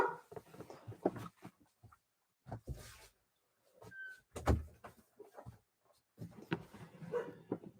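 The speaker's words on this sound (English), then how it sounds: "And now I'll just close the door." Indoor door pushed shut in a house with dogs, giving a single firm thud among scattered footsteps, rustles and small knocks, close and moderately loud.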